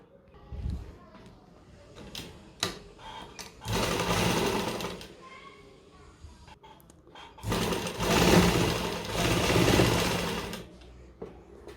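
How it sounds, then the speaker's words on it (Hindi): A sewing machine runs in bursts, stitching a fabric strip beneath a kurti neckline, with several loud whirring runs separated by pauses and someone talking between them. "इसको हमने इसके नीचे लगाना है। ये जो साइड है हमारी, इसके नीचे ये लगेगी। सिलाई लगाते हैं एक।"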